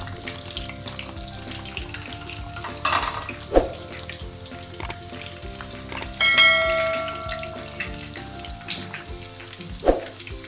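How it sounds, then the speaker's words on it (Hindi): Onions frying in hot ghee for chicken haleem, a steady close sizzle with occasional spoon taps and scrapes against the pot, plus a brief ringing metallic clatter midway, with no talking. "अब प्याज को कर लेते हैं फ्राई।"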